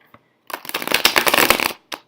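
A deck of tarot cards is riffled and shuffled by hand, a dense rapid flutter of crisp card snaps lasting about a second and a quarter, close and loud, with a soft tap before and after.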